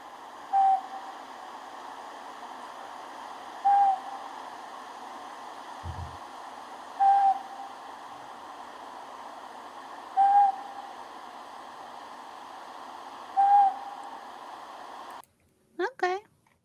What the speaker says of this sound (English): Northern pygmy owl